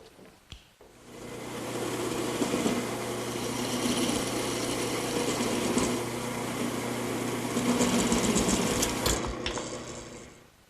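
A turned wooden finial being cut loose on a wood lathe: the motor whirs steadily while a tool scrapes and chatters against the spinning piece, ending with a few sharper knocks as it winds down.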